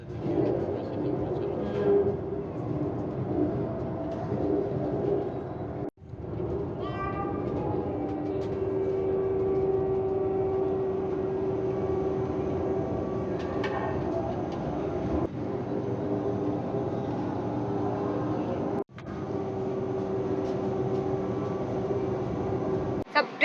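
A Vande Bharat express train runs at speed with a steady, dense rumble and rattle heard from inside the carriage, broken only by a couple of brief dips.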